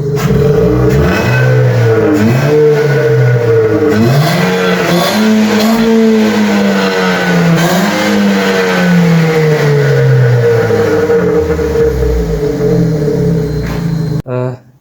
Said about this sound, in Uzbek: Xullas, motori yurdi, Matizimiz yurdi.